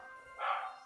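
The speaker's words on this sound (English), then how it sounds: "Who knows what the corgis are barking at?" Corgis in the video game PSO2 give a single short bark, fairly faint and heard alone against quiet game background sound.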